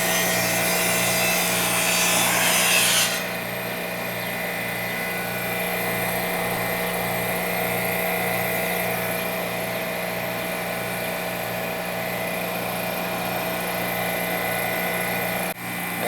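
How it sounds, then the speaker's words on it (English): An air conditioner compressor on a newer home system with a major R-410A refrigerant leak hums steadily nearby, with a constant tonal drone and a brief hiss early on. "Compressor's running."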